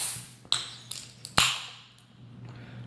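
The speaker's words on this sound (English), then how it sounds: "Let's crack it open." A can of Guinness Nitro IPA is cracked open with a few sharp metallic clicks and a hiss, followed by fizzing that fades; close and fairly quiet, with no talking.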